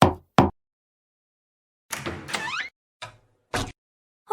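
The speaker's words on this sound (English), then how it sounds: "He mustered up the courage to knock on the door." Knocking on a classroom door: two quick sharp knocks at the start, then a gap before a short voiced exchange. A few more isolated knock-like taps follow.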